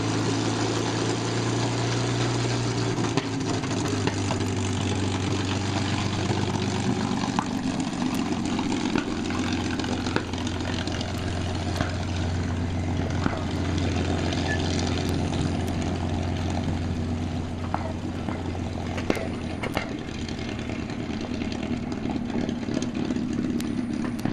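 A P-51 Mustang's propeller engine drones loud and steady throughout a ground brake test, its low rumble shifting as power is added, with no talk.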